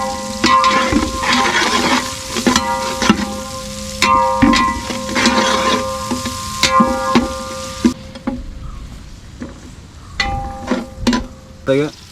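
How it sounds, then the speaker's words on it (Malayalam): Beef bone masala mixture frying and being stirred with salt in a pan, a steady close sizzle with scraping stir strokes and faint tonal hum, quieter toward the end. "കുറച്ച് ഉപ്പും കൂടെ ഇട്ട് ഇതൊന്ന് ഇളക്കണം"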